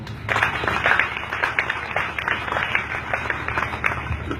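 Church congregation applauding to acclaim the Lord: steady, dense clapping from a crowd, loud and close, filling the whole short stretch.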